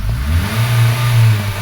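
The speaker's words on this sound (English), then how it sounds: "Now I've stayed here and I've revved it in park." A 2009 Honda Fit engine revs while parked, a loud low rumble swelling and holding briefly before easing, close to the listener with no talk.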